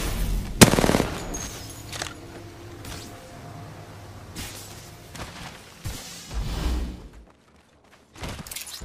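Video game gunfire crackles in short bursts and single shots, mid-distance and moderately loud, with thuds and whooshes in between, then a brief silence near the end.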